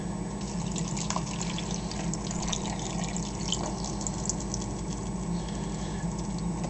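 Strawberries being washed in water, a dense continuous patter and splashing of liquid with small drips, steady and close throughout.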